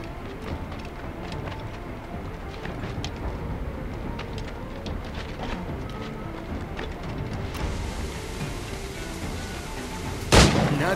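Gunfire in the pirate-era game Assassin's Creed IV Black Flag: a low rumbling battle backdrop, then one sharp, loud shot bursting out near the end.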